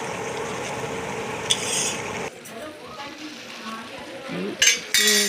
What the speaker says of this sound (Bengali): চালমগজ, কাজু বাটা, কাজু নয় মানে পোস্ত আর চালমগজ বাটা ভালো করে কষানো হচ্ছে বন্ধুরা।